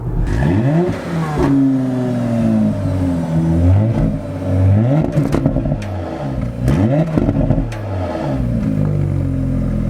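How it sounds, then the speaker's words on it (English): A Porsche Panamera 4S with a subdued V6 revs and accelerates in repeated pulls, its pitch sweeping up and dropping back several times, loud and near with no talk. "it's a very quietened down V6, but the tone is right to it"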